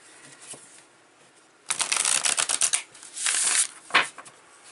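Tarot cards being shuffled in quick riffling bursts, a dense rapid flutter with a few sharp slaps, close and fairly loud, after a quiet start.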